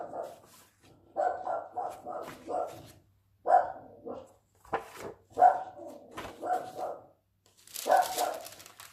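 A dog barks repeatedly indoors in bursts of several loud barks with short gaps, fairly close to the microphone.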